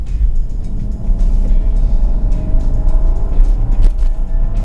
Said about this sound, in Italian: la macchina accelera, ma accelera veramente forte senza neanche darti l'impressione di andare così forte